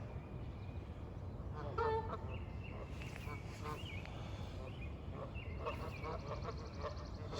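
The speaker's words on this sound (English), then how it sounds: "So we got the geese over there. They're very chatty this morning." Geese honk and chatter in scattered calls from across the water on a spring morning in northeast Ohio, over steady outdoor background noise.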